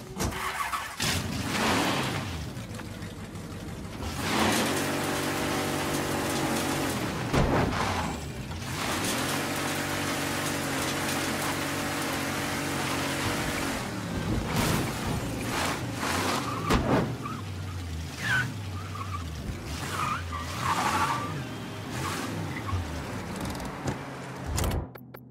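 A car drives through rain in the Mafia 3 video game, its engine humming steadily and loudly for the whole stretch, with broadband road and rain noise and a few sharp knocks and shifts in tone.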